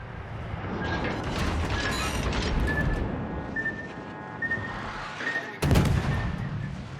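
Naval gunfire in World of Warships Legends: armour-piercing shells from a warship fired at a Kronstadt cruiser, a sustained rumbling mechanical roar with whistling shell tones, ending in a loud, sharp blast.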